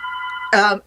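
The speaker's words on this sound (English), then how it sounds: "I don't know if you can hear my phone ringing" A phone rings during an online interview, its electronic ringtone bursting out briefly and loudly over a steady tonal background for just under half a second.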